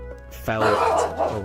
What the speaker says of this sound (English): Apologies that my dog is barking.